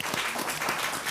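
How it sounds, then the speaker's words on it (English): Applause at a city council meeting, a brief, full burst of many people clapping together at close range, steady and unbroken. "Let's give that a hand clap."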